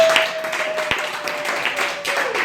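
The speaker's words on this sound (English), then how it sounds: "Let's give him a big round of applause." A comedy club audience applauds in a continuous, close rush of clapping over a steady electronic tone, with a voice briefly cutting through.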